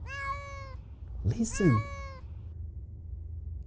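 A cat gives a long drawn-out meow, then a second meow overlapped by a short spoken word, clear and close against a low background hum.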